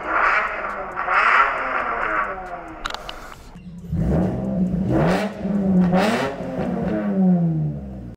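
A Nissan 350Z with a raspy aftermarket exhaust revs in short bursts, the engine note rising and falling, while someone talks over it close by.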